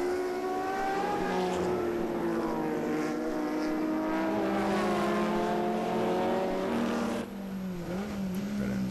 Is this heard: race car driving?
yes